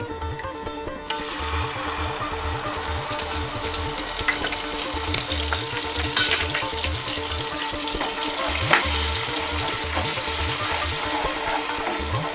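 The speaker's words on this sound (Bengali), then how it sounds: "আদা ধনে গুঁড়ো জিরে গুঁড়ো যে পেস্টটা আমি দিয়ে দিয়েছিলাম সেটা আমার কষানো হয়ে গেছে" Ginger, coriander and cumin spice paste sautéing in a pan for a Bengali cauliflower dish, a steady close sizzle and bubbling with rhythmic scraping strokes of a spatula stirring.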